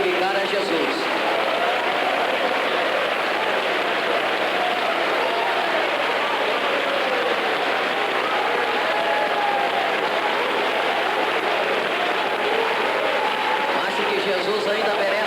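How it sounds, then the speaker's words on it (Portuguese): Congregation in a church claps continuously for a long stretch, a thick, steady roar of many hands with crowd noise and voices mixed in. "Pode bater palmas e glorificar a Jesus."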